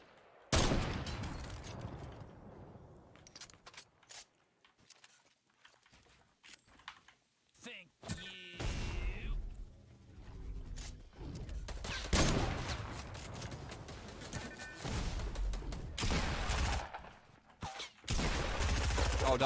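A double-barrel shotgun booms in a Fortnite match as several loud bursts mixed with rapid keyboard clatter, while a player talks excitedly over the fight.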